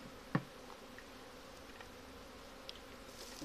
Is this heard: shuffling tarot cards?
no